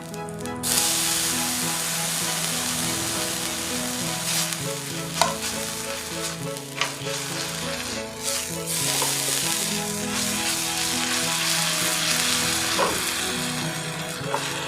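Seasoning paste frying in a pot for Korean-style seblak, a loud steady sizzle and crackle running throughout with occasional stirring scrapes and clinks against the pot.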